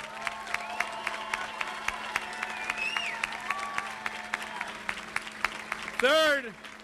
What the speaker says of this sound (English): Give a big round of applause for our campaign team.